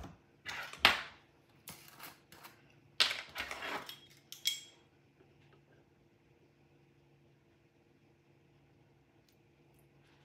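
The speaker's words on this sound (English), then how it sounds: "And I'm going to stir that." A spoon clinks and scrapes in a bowl while stirring sliced peaches with lemon juice and vanilla, a few irregular bursts of clatter in the first few seconds, then near silence.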